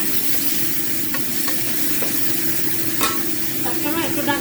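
Dried Bombay duck fish sizzles as it fries with browned onions, a constant close crackling hiss with occasional stirring clinks and scrapes throughout.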